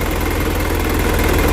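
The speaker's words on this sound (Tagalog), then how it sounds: "ma-vibrate saka makalampag, di ba? Rod idling." A hard-starting engine idling roughly, a loud, close, steady low rumble with a rhythmic pulsing vibration and rattling, continuous with no voices.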